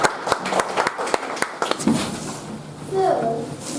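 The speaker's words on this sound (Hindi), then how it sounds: "थोड़ी तालियां हो जाए" At a book launch event, a handful of sharp, scattered handclaps from a small audience ring out close by, then fade as people start talking.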